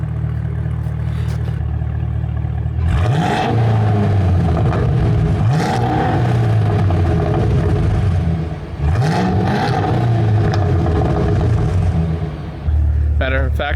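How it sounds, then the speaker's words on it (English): A Cadillac CT5-V Blackwing engine idles with a low rumble, then revs up sharply about three times, each rev rising and falling back, loud and nearby. "We're gonna do a couple revs and then we're gonna leave"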